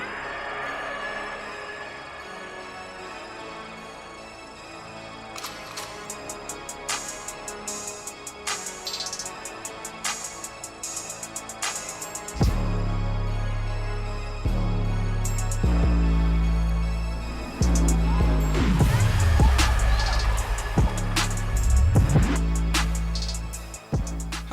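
An Ursa monster truck ATV drives with a steady engine drone that rises and surges as it revs and picks up speed, loud and close, with rattles and bumps through the ride and no talking.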